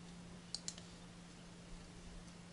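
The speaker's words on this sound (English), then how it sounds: "I'm going to go ahead and type in only the things that I'm assuming that I'm going to include in my portfolio." A few quick clicks on a computer keyboard while editing a CSS template, two sharp close taps in a row, then a faint later tap over a steady low hum.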